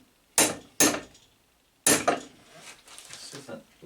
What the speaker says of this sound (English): get an appropriately sized punch and an appropriately sized hammer.